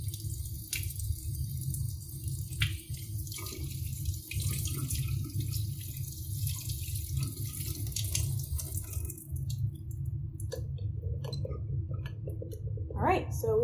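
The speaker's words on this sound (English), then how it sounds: "So I'm gonna turn on the water and we'll get started." Water runs steadily from a sink tap as a hand is rinsed, a continuous hiss with faint drips and splashes near the end, heard close up.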